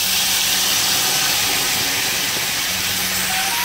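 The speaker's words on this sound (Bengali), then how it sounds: "আর তেলের মধ্যে দিয়ে দেবো সেই সর্ষে বেটে রাখা সেই পেস্টটা আমি দিয়ে দেবো।" Mustard paste hits hot oil in a village kitchen and sets off a loud, continuous broadband sizzle that holds steady throughout, close up, with no talking.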